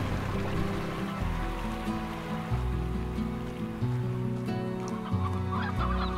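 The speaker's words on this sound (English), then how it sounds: "let's gather up some spare chickens, because goodness knows we have enough of them" Chickens cluck in the video game Slime Rancher, steady fowl calls layered over continuous game music and ambient water sounds, with no talking.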